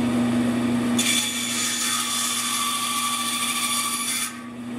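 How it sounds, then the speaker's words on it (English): Poplar wood pegs for a wooden pub game are cut with a power tool, a bright whirring cut lasting a few seconds over a steady motor hum, close and loud with no talking. "Now I'm cutting pegs for the game."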